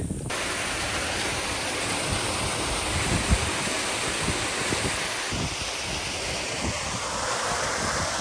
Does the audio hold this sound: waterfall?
yes